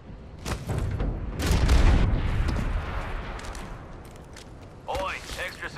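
A heavy booming blast from a gravity cannon in Apex Legends rumbles and fades, followed by brief chatter and faint electronic sounds.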